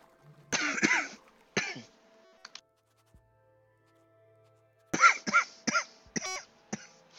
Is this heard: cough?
yes